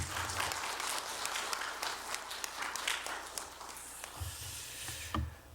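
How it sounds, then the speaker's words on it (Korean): A church congregation claps in welcome for a visiting preacher at a dawn revival service: steady, dense applause fills the whole stretch, swelling and thinning a little, with no talk over it. "박수로 환영하겠습니다."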